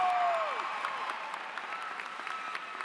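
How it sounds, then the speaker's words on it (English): A large audience at a high school graduation ceremony claps in a dense, sustained wash of applause that slowly fades, with a brief tonal whistle near the start. "giving our students a huge round of applause and cheer for them"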